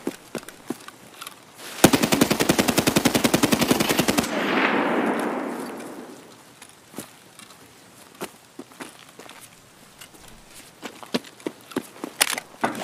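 Rapid full-auto bursts from an SA-58 rifle in Escape From Tarkov, loud and tightly spaced for about two seconds, echoing through the Customs lobby before fading into scattered distant shots and footsteps.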